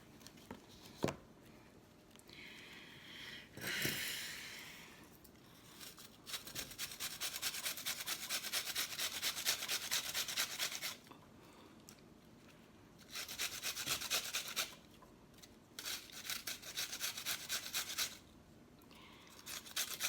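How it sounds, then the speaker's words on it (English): Onion grated by hand for a casserole of eggs and bacon fat, heard as repeated bursts of dry rasping strokes, close and fairly loud, in several runs separated by short pauses, with no talk. "Now I'm gonna grate onion in here and salt and pepper."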